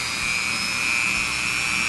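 A Dremel rotary tool cuts through a guitar pickguard with a steady, loud high-pitched whine and grinding hiss that holds for the full two seconds, with no talking.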